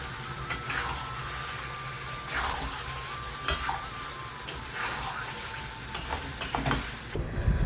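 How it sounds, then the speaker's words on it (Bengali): Ginger, garlic and onion spice paste frying and being stirred in a pan, steady sizzle with repeated scrapes of a spoon, close up and moderately loud. "তো এদিকে মশলাটাকে কষিয়ে নিবে ভালোভাবে"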